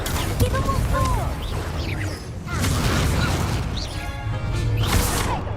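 Crashing blast impacts and bursts from spells such as Confringo in Hogwarts Legacy combat, a busy mix of booms, whooshes and smashes recurring across the span amid game effects and faint voices.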